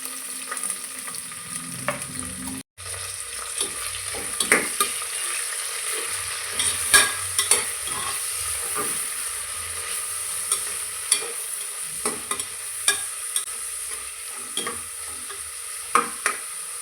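Onion and peas fry and get stirred in a pan with greens, curry leaves and mint, a steady close sizzle broken by repeated scraping strokes of the spoon, with no talking.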